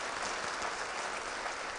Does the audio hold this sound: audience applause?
yes